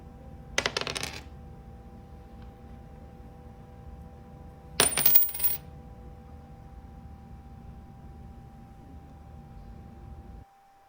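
Two short bursts of small objects clattering and rattling on a hard surface, roughly four seconds apart, over a faint steady background hiss, like dice rolled and then a coin tossed and landing.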